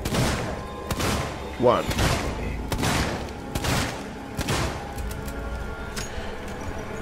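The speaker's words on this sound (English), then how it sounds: "how about 6 revolver shots in the head?" Revolver shots in the video game Alien: Isolation, a series of heavy booming reports spread over several seconds amid in-game thuds and ambience, with someone talking over them.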